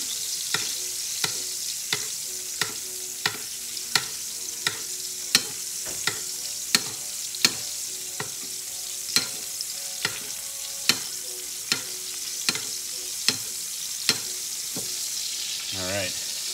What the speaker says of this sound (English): We're gonna let that go in the pan here for about another 30 seconds just to let it cook all the way through